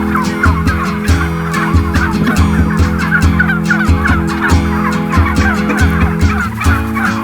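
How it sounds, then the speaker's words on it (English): A flock of farm turkeys gobbles continuously, many overlapping calls rising and falling, loud and close, with a steady low hum underneath. "and these are my turkeys"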